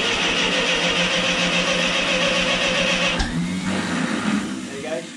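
A Ferguson TE20 tractor engine runs on choke, a loud, steady mechanical drone close by that shifts and roughens near the end, with a voice speaking over it.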